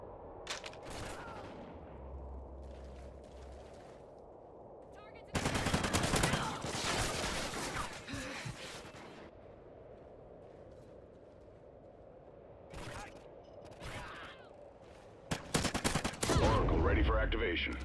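Automatic gunfire in the Ghost Recon video game comes in dense bursts, with quieter stretches of game ambience between them and a heavy closing barrage.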